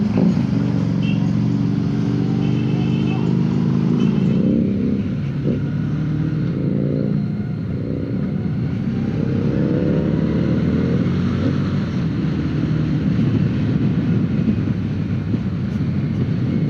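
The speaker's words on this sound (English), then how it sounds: "I just love that exhaust." A motorcycle engine rumbles loudly and steadily, its exhaust note rising and falling as it revs, with wind noise throughout.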